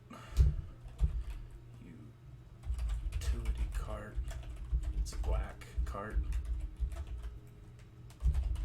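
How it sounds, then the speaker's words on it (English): Rapid keystrokes tap on a computer keyboard under a voice as he talks, the clicking irregular and close, with a low hum in the background. "just start typing words that you would possibly consider using on your tags"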